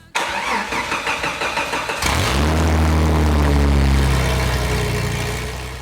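A Jeep TJ engine with no exhaust cranks in quick rhythmic bursts, then fires and settles into a loud, raw, close idle that rises briefly before easing off.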